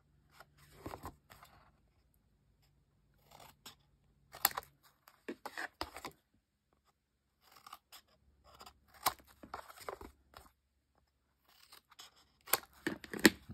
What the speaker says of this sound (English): I'm going to slightly miter by resting my scissors up against the chipboard and cutting at a slight angle,